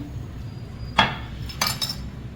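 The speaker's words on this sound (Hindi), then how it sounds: "जो हमारा योगर्ट है, इसमें हम ये ग्रीन चिली और ये जो हमने धनिया को मोटा मोटा पीसा है, बहुत ज़्यादा बारीक नहीं किया है, ये मिक्स कर देते हैं" A spoon stirs green chili and coarsely ground coriander into yogurt in a bowl, giving a few sparse, close metallic clinks against a quiet background.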